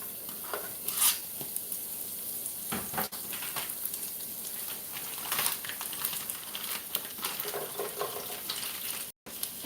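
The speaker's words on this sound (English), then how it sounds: "saute the dried mushrooms" Dried mushrooms, shallots and onions sauté in a pan for a vegan ramen broth, making a soft, continuous sizzle broken by occasional crinkling and scraping stir sounds.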